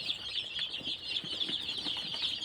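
Crowds of baby chicks on a Buriram poultry farm, being vaccinated against Newcastle disease and bronchitis, keep up a steady, shrill peeping chorus at moderate level, with faint low bumps underneath and no talking.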